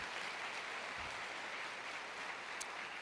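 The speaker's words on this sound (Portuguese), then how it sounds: "Então aplauda o Senhor" A church congregation applauds during a worship service, a steady, even wash of clapping that stays fairly faint and continuous throughout.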